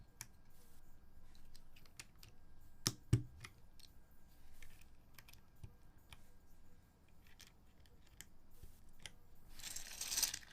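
Keys clack one by one on a Noxary x60 custom mechanical keyboard in a quiet room, sparse irregular taps with a couple of louder, sharper strikes.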